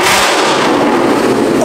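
A flame-spitting Ford Mustang lets out a dense, loud barrage of exhaust backfire pops and crackles that runs without a break, close by and with no talking.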